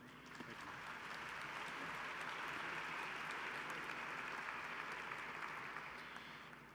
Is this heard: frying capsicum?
no